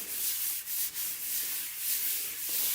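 A wet wipe rubbed across a chalk stencil mat gives a soft, steady scrubbing swish with brief pauses, close and quiet, with no talk.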